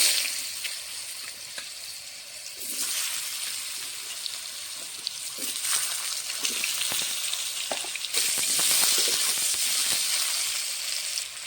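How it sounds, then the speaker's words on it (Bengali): Potatoes fry in oil left over from frying fish, a continuous close sizzle and crackle that swells louder partway through and stays busy to the end. "মাছ ভাজার তেলে আমি আলুটা ভেজে নেব"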